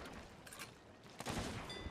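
Ship cannon fire in a pirate sloop sea battle video game, a few muffled booms rising out of rolling wave and wind noise, with the heaviest blast near the end.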